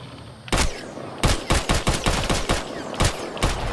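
Gunfire in the video game Mass Effect Andromeda, a sniper rifle among the weapons in play, heard as a rapid string of sharp, loud shots in uneven bursts, with no talking.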